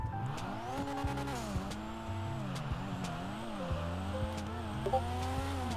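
Simulated car in a video game making a drag run, engine note climbing and dropping through repeated gear changes with short tire chirps, steady and moderately loud throughout with no talk.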